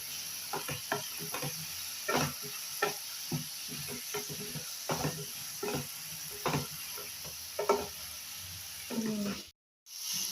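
Brinjal and field beans sauté in oil in a pan, giving a soft, steady sizzle broken by repeated scraping stirs of a spoon. Near the end the sound briefly cuts out.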